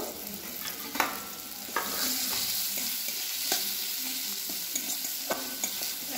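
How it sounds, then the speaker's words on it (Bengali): Chopped ginger and garlic fry lightly in a pan, a steady soft sizzle broken by occasional scraping stirs, close and fairly quiet with no voices. "আদা কুচি, রসুন কুচি এগুলো দিয়ে একটু হালকা করে ভেজে নেব"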